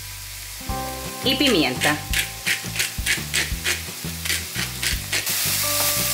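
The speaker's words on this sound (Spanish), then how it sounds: "en un sartén pondremos 2 cucharaditas de aceite y vamos a sofreír el pimiento, el ajo y la cebolla" Bell pepper, garlic and onion sauté in two teaspoons of oil in a frying pan, seasoned with salt, making a close, steady sizzle beneath rhythmic background music, with a brief spoken phrase.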